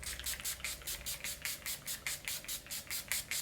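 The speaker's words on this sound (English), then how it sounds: "And last but not least, spray my face." A setting spray mist hits a face in a quick run of about fourteen short, even pumps, each a crisp airy hiss, close and clear with no talking.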